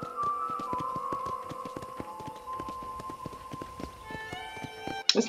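Horse hooves in the video game Red Dead Redemption: a steady run of clip-clopping beats under sustained game music, ending in a brief louder clatter.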